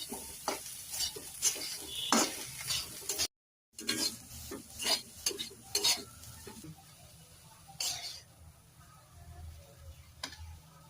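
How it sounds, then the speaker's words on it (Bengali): Fried flat beans are stirred in a pan with a spatula, a series of scraping clatters and taps over a faint sizzle, close by and irregular in rhythm. "আমার আম্মুর সিম ভাজি শেষ, আম্মু ওইটা প্লেটে তুললো"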